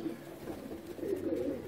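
Sialkoti breeder male pigeon coos softly and repeatedly at close range, low murmuring calls rising and falling continuously over a quiet background.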